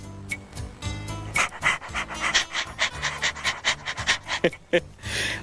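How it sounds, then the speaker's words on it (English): A dog pants rapidly and steadily up close while begging, quick rhythmic breaths that grow louder and end in a few soft whimpers. "a dog who begs?"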